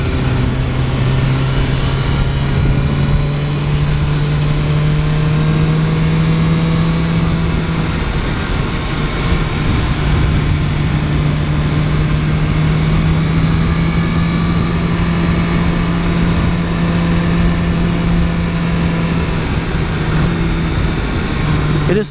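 A 2015 BMW S1000R motorcycle engine drones steadily and loud as it rides, a constant close engine note with wind rush throughout and no clear rise in pitch.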